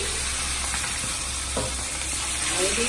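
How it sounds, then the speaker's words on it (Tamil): Marinated quail pieces fry in a small pan of hot oil, giving a steady, dense sizzle with faint stirring scrapes throughout, no voices. "இப்போ எண்ணெய் காஞ்சதும் அதில் போட்டு எடுத்துடணும்."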